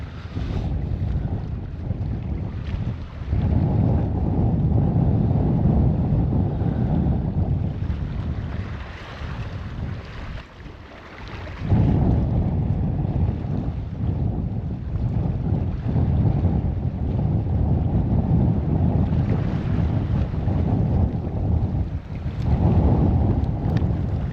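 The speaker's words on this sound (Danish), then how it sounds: "Det er hård kost det her. Vinden lige direkte i fjeset." Strong wind buffets the microphone on an exposed Danish coast at Sønderby Klint in freezing weather, a loud continuous roar with gusts and short lulls, and no one speaks.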